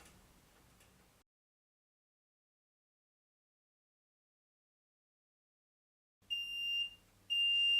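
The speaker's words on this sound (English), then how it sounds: "When it gets to 0 we'll hear it beep" After a stretch of silence, a Signzworld HP3805B heat press timer gives two loud, high electronic beeps, the second following a brief pause.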